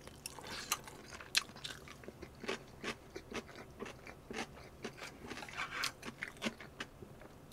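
Someone eats seasoned pork ribs by hand close to the mic, making soft, irregular bites, chewing and small crunchy clicks against a quiet background.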